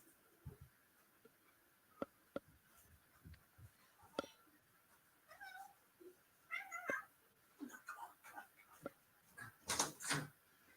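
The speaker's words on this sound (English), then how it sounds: "It's my cat. I just really needed to be let out." A pet cat meows repeatedly indoors, short insistent calls scattered across ten seconds and growing louder toward the end, mixed with soft knocks and faint background voice.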